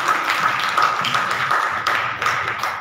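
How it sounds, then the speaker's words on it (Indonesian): An audience at a village facilitator training session claps in applause, with a dense patter of hands that swells and dips in several bursts across the room. "Bapak Ibu, tepuk tangan untuk kita semua"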